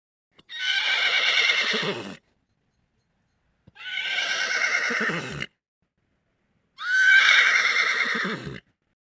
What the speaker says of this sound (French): Le cheval est un grand animal doux.